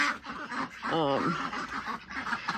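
A duck gives a short run of harsh, rapid quacks close by, with rainy outdoor noise around it.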